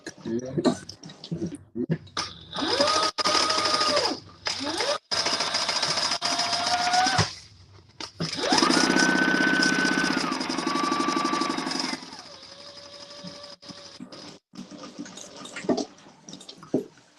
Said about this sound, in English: We're gonna just sew the sides.